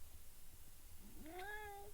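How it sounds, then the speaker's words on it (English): A cat meows once near the end, a rising then falling call heard fairly close against a quiet room, with no talking during it. "Meow"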